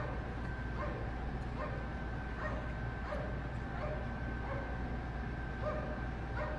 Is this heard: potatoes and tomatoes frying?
no